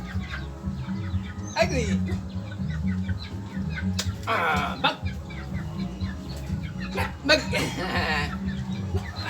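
Backyard chickens cluck and squawk in scattered bursts near and far over a steady low hum, while people speak briefly in between.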